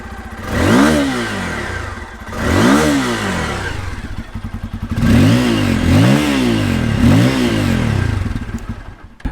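Bajaj Pulsar F250 motorcycle revving loud and close, with four or five sharp throttle blips, each rising and falling, the last few coming in quicker succession, with no talking.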